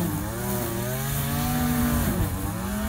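A Stihl FS56RC string trimmer's small two-stroke engine runs at high revs, a loud, buzzing whine that rises and dips slightly in pitch as the throttle shifts, continuous and close.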